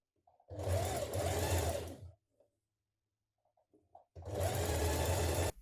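A domestic sewing machine runs in two bursts to hem a blouse, each a fast steady whir lasting a second or more, with a quiet pause and small handling clicks between.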